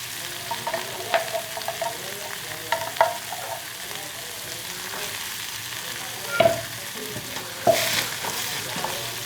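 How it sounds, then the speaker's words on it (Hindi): Spoon stirring a green chutney mixture of green chilli, garlic and coriander, with soft wet scraping and a few sharper clinks against the bowl, close and fairly quiet, no talk. "अब इसको पूरा आपने मिक्स करना है।"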